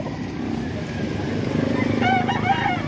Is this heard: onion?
no